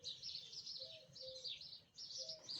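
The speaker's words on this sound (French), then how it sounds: "Le matin, j'adore écouter les petits oiseaux dans mon jardin." Small garden birds chirp and twitter continuously in bursts of high tweets, with a few lower whistled calls, moderately close in an outdoor morning garden with a fig tree, no talking.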